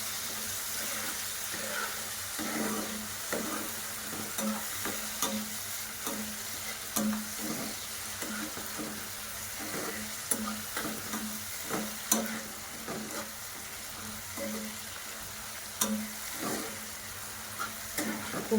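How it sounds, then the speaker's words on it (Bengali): Vegetable fried rice with soy sauce and red chilli sauce is stirred in a pan, a steady soft sizzle broken by rhythmic scraping and tapping of the spoon, repeating through the stretch with no talking. "একইভাবে আমি নাড়াচাড়া করতে থাকবো"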